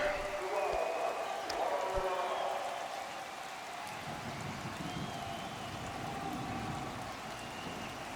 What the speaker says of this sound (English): The rain is gonna stop a little bit.